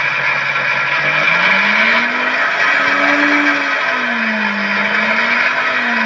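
A Miyako commercial blender with a steel bushing runs at high speed, a loud, continuous motor whine whose pitch rises and wavers slightly as it spins.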